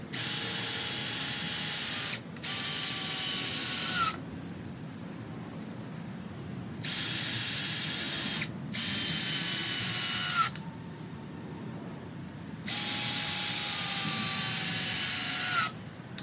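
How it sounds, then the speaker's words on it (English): Power drill driving construction screws into wood while building cat patio furniture, with five loud whirring bursts of a few seconds each, rising in pitch as the screws seat and separated by quiet pauses. "So now we're gonna put four more screws in the bottom of this to attach it to the plate"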